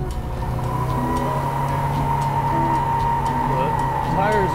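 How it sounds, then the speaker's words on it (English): Tires squealing as a car with a KAD rear anti-roll bar spins around, a steady engine drone underneath with rising squeal near the end; speech is present. "The tires are squealing pretty good"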